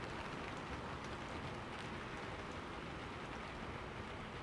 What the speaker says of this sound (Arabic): مثلا هنا في صوت المطر، لو ضغطنا عليه مرتين